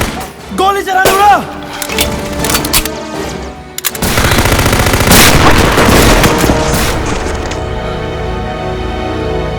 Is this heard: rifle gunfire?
yes